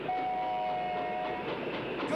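A train rumbles along the tracks with a steady rolling clatter and a faint sustained whistle tone, continuous and fairly loud.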